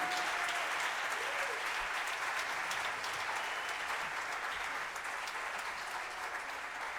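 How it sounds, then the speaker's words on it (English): A festival audience at a Jesse Malin show in Mallorca applauds in a continuous, even wash of clapping, moderately distant and steady for several seconds. "Let's give a big applause for these people."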